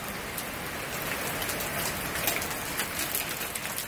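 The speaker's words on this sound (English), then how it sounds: "Dude, we've got large hail." Large hail pounding down during a violent microburst storm in Clear Spring, Maryland: a dense, loud, continuous roar of countless close impacts, steady throughout without any voices.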